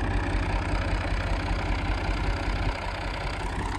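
Massey Ferguson 135 tractor engine idling, a steady loud low rumble heard close up with a slight drop in level near the end.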